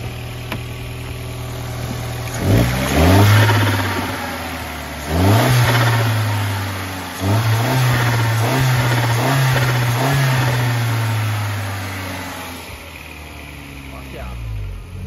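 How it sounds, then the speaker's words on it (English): A turbocharged car engine revs repeatedly, rising and falling in several loud pulls over idle, close to the microphone with no speech. "So you want to hear some turbo noise?"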